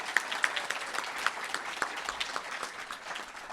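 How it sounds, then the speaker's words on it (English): Fairly soft, continuous applause from the audience at a patient summit on MOGAD runs throughout, a steady wash of many hands with a few sharper individual claps standing out. "So let's give Jim a round of applause."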